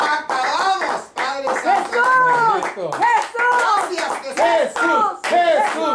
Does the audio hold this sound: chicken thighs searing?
no